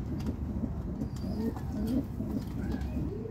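Young pigeons of the kolongan racing type coo softly and repeatedly, low rolling burbles close by over a steady background murmur, with faint chirps from other birds.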